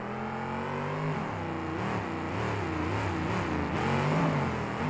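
Monster truck engine revving loud and steady at a 2009 KORR Monsters show in St. Louis, pitch rising and falling through a sustained wheelie down the racing ramp, with no talk over it.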